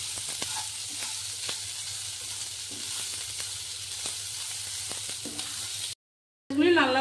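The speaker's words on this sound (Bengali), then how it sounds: "পেঁয়াজগুলি লাল লাল করে ভেজে নেব।" Onions fry in a pan until reddish, making a steady, moderate sizzle with periodic spatula taps and stirs, then a brief silence before a short burst of a different sound.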